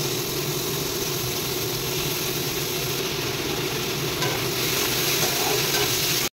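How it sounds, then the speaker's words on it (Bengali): Potato and sweet pumpkin frying in hot oil in a wok, a steady dense sizzle with faint stirring, close and continuous before cutting off abruptly at the end. "প্রথমে ভেজে নেবো আলু মিষ্টি কুমড়ো ভাজা"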